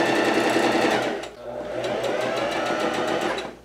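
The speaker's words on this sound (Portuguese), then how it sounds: "Então eu vou costurar aqui, aquele pesponto bem fininho" A sewing machine runs a fine, narrow topstitch along a summer dress near the strap, a steady dense whir that pauses briefly partway through before resuming, with faint speech in the background.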